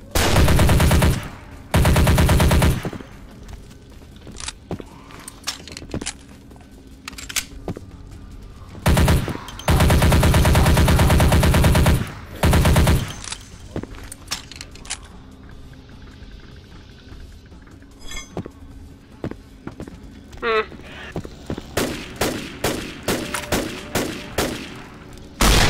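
Dragon breath shotgun fired in Vampire the Masquerade Bloodlines, loud heavy blasts in a few long bursts, then a run of quicker sharp shots near the end.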